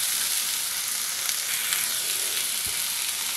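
Pumpkin pieces fry in a pan with a dense, loud, continuous sizzle that holds steady throughout, heard alone at close range.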